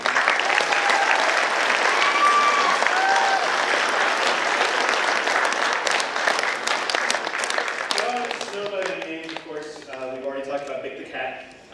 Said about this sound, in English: you should applaud for him because it's amazing